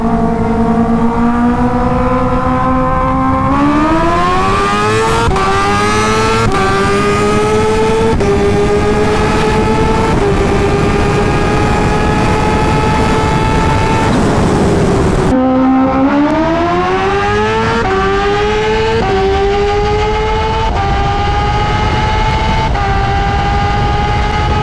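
A Kawasaki Ninja H2 supercharged motorcycle revs hard through rising, climbing engine pitch and shifts gears in quick steps, then does it again after a brief drop, loud and close with no talk.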